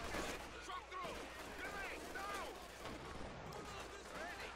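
Machine gun fire in the video game Company of Heroes 2 crackles in dense, overlapping bursts across the whole stretch, with a voice talking over the battle noise.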